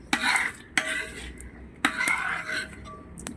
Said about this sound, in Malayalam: ഇതുപോലെ നന്നായിട്ട് ഒന്ന് ഇളക്കിക്കൊണ്ടേ ഇരിക്കണം